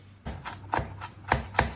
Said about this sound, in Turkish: Soğanları, sarımsağı, biberi, maydanozun hepsini doğradım. Şimdi biraz daha ufaltıyorum.